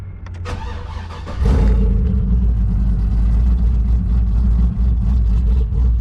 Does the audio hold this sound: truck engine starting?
yes